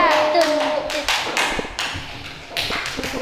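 Children in a primary school classroom do a clapping game, with sharp, separate hand claps and taps in an uneven rhythm, a teacher's voice and children's voices mixed in.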